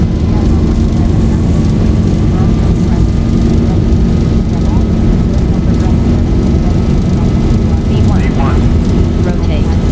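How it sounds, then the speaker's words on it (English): Airliner engines at takeoff thrust in the X-Plane flight simulator produce a loud, steady roar with a faint rising whine that persists throughout. "Takeoff thrust set."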